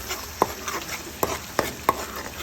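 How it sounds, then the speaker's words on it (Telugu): Soaked masala frying in a little oil in a kadai, a soft steady sizzle punctuated by four sharp scraping knocks of a spoon stirring against the pan, close and fairly quiet. "ఇంకో పక్క కడాయి పెట్టుకొని నూనె వేసి కొంచెం నూనె వేసి ఈ ఊరి పెట్టుకున్న మసాలాని వేయించుకోవాలి"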